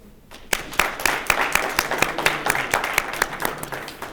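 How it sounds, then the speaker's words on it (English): An audience applauding at a community meeting about a fairgrounds project, a steady run of sharp individual claps building into light applause from a modest crowd, fairly close. "And then we applaud."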